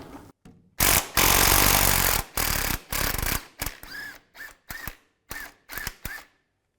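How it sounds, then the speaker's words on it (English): A 14mm socket ratchet works a lower trailing arm bushing bolt loose on a 1997-2001 Honda CR-V, with a few long loud bursts followed by a series of shorter, evenly spaced clicking strokes close up. "Using a 14mm socket, take this bolt out"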